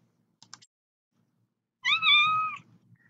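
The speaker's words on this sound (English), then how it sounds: "you can hear my cat's little meows" A cat indoors gives a few faint ticks, then one clear, close meow lasting under a second, with quiet around it.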